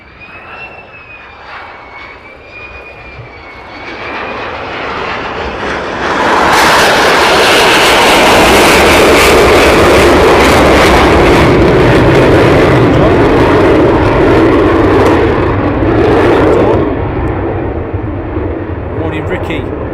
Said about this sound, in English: This is the F-35s arriving a while back.